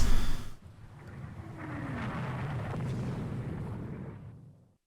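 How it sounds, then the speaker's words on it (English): Shells strike the ship Navarin in the Rule the Waves 2 naval game: a sharp opening blast gives way to a low, rumbling swell of impact and churning noise that fades out after a few seconds. "Navarin's just taking several hits there."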